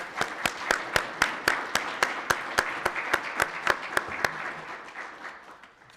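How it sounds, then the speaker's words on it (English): A round of applause at a school board meeting: sharp, fairly close regular claps ringing out over a crowd's softer clapping, gradually fading toward the end. "One more round of applause, please."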